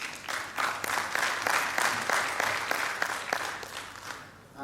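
An audience at an NGO forum session gives the panelists a round of applause, a crowd of hands clapping in a quick, slightly pulsing rhythm that stays steady before softening at the end.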